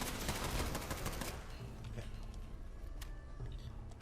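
Turret gunfire in a Fallout role-play game sounds as a dense rapid burst of shots for the first second or so, then scattered fainter pops and clicks under low game ambience.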